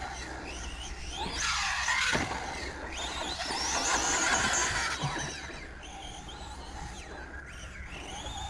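A Proline Fusion SC radio-controlled short-course car on 4S power runs in a meadow, its electric motor whining up and down in pitch through repeated throttle bursts, fairly close and loud, with no talking.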